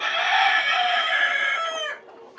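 A free-range country rooster crows loudly and close for about two seconds, with hens clucking softly around it before the sound cuts off.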